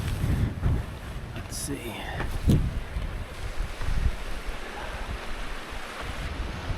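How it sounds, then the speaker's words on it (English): Wind gusts across an open mountainside campsite on the Timberline Trail, a steady broadband rush with buffeting against the microphone, as someone speaks briefly over it. "It's windy."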